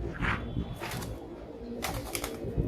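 A male silver pigeon coos softly in a few low, rounded bursts with fluttering gaps, fairly faint and without speech over it.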